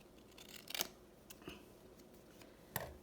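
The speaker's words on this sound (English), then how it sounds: "I'm just cutting it." Scissors cutting a paint chip card, a few quiet crisp snips and rustles spaced irregularly, close and faint.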